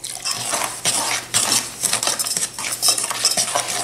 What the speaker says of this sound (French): Et je vais mélanger cette préparation avec un peu d'eau.